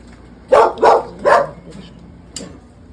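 Dogs bark three times in quick succession at night, fairly close and loud, followed by a softer yip.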